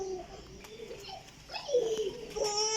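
A flying-breed pigeon in Jhelum, Pakistan coos in soft, throaty rolls, a few low burbling calls close by with some faint background noise.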